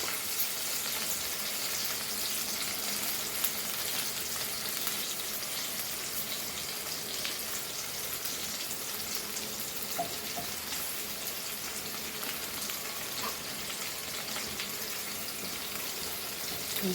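Onions sautéing in a pan for a traditional Goan okra dish, giving a steady, even sizzle that holds for the whole stretch with a faint occasional clink, and no voices.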